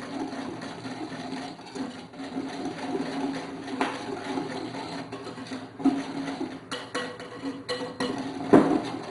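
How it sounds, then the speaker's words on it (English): Batter for a lemon cake stirred in a bowl, soft scraping and clinking of a utensil against the bowl's sides at a steady pace, fairly quiet with a few sharper knocks near the end. "and now we start to mix together"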